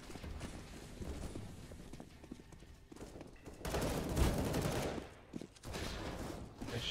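Game gunfire from CS:GO in a competitive match, an irregular mix of shots and bursts that swells into a louder cluster midway and then eases, fairly quiet overall.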